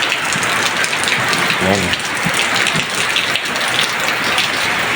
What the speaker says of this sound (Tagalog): Oh, basang-basa na sa ulan. Ulan na oh.